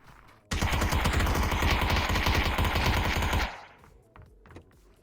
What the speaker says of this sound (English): Slightly buggy gunfire there.